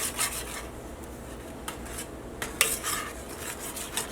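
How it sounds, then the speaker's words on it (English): Butter, sugar, milk and cocoa powder stirred in a pan over medium heat for no-bake peanut butter oatmeal cookies: steady scraping and rasping of a utensil against the pan with occasional metallic clinks, close and alone. "Gotta stir, stir, stir, stir. Gotta make sure all that butter is melted."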